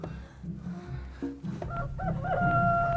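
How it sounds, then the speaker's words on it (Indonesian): Many chickens outdoors, roosters crowing in rising, drawn-out calls over a steady background of clucking, fairly close and continuous throughout. "itu ada ayam di luar banyak bener"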